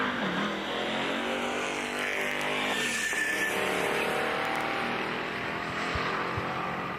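A self-recovering Dodge Dakota with a crane in the back drag racing a Ford Mustang at a street racing event: loud engines roar off the line, then tires squeal and the engines fade as the cars pull away.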